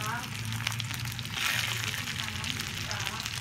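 Sandwich frying in a pan in a home kitchen: a steady, continuous sizzle with crackling, close by, over a low humming drone.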